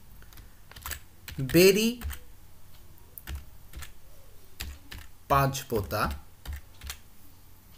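A computer keyboard is typed on in faint, quick clicks, with a person speaking over the tapping at intervals.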